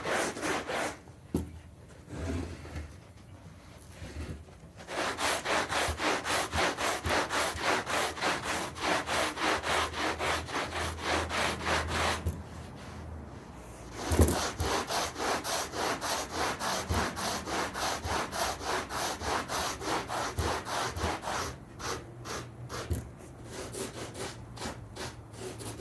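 Hand sanding on wood while making a bottom foam cushion from scratch: steady back-and-forth rasping strokes in long close bursts, with brief pauses between runs and no talking.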